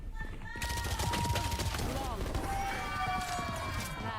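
Dense rapid gunfire from Valorant, SMGs trading shots with Classic pistols in a pro match, a loud continuous rattle of shots layered under excited commentary and tonal game effects.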